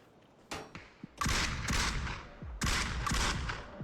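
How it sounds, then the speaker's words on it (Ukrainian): Several bursts of gunfire in the video game PUBG, including short rapid volleys, sharp and fairly loud, with brief pauses between them. "Тільки висунусь, зразу стріляють по мені здалека."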